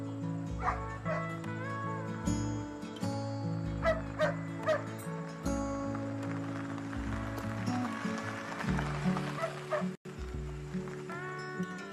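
A dog barks repeatedly in short, loud bursts as people arrive at a house, heard over a steady musical score with no talk.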